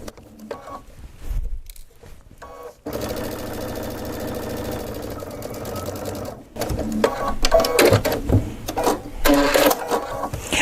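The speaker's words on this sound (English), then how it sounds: "See how it sews right along that edge." A Baby Lock sewing machine fitted with an Ultra T foot sews piping, its needle running in a steady, fast mechanical whir for several seconds between quieter handling and clicks, close and clear.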